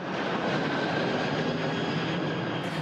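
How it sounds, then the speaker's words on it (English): A firefighting aircraft drones steadily overhead during a California wildfire, its engine roar loud, broad and continuous, with no voices. "We're hitting it with the aircraft, cooling it down, and that's letting the ground crews get in there and put out the fire."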